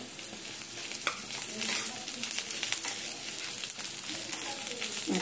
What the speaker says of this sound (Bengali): পেঁয়াজটাকে কড়া করে ভাজতে হবে